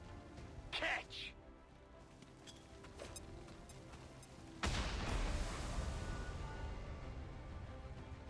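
A Blood Curse grenade from XCOM 2 detonates with a sudden loud boom and then a long rumbling decay, after quieter thuds and clicks of game sounds.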